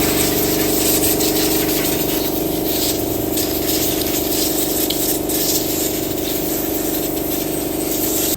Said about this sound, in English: then we power wash it